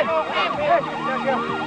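A police siren wails in rapid rising and falling sweeps, loud and near for a brief moment, in a scene from a television drama.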